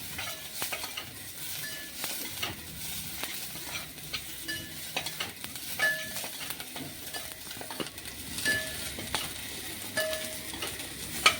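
Onion sizzling and frying in a pan until reddish while a spoon stirs it now and then, a steady hiss with light scraping and soft clinks from the pan, moderately close and with no talk.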